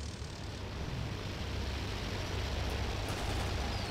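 Fighter planes drone overhead in the video game Toy Soldiers, a steady, broad engine roar that holds at an even level for a few seconds, fairly loud and uninterrupted, with no voices.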